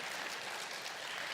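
Church congregation clapping together, a dense, steady patter of applause holding at an even level for a brief moment.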